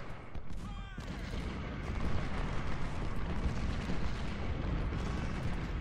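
Civil War cannon fire in the strategy game Ultimate General Civil War: a continuous, rumbling barrage of distant booms and crackling volleys, fairly loud and unbroken, with no voices.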